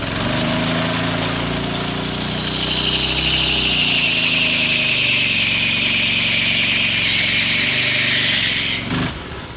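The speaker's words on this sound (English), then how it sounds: "I want to go ahead and do a burnout." Vintage mini bike with its small engine running hard through a burnout, a steady loud drone topped by a high whine that slowly sinks in pitch before the engine cuts off abruptly at the end.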